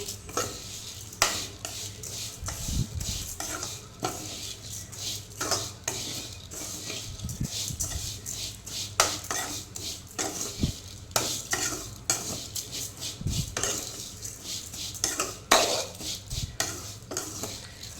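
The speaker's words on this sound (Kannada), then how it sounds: "ಅದೇ ಉಳಿದ ತುಪ್ಪಕ್ಕೆ ನಾನಿಲ್ಲಿ ಶಾವಿಗೆಯನ್ನು ಹಾಕ್ತೇನೆ. ಶಾವಿಗೆಯನ್ನು ಕೂಡ ಹಾಗೆ ಕೆಂಪಗಾಗುವ ತನಕ ಇದನ್ನು ಫ್ರೈ ಮಾಡಬೇಕು" Vermicelli frying in ghee in a pan, with a steady close sizzle broken by repeated scraping and clinking strokes of a stirring spoon, alone without any talk.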